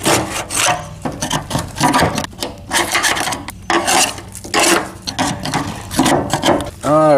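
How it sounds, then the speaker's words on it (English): Loud, close scraping of varnish off a surface next to the fuel tank of an old truck that has sat for twelve years: rapid repeated rasping strokes in bursts, rough and continuous. "So let's scrape this off."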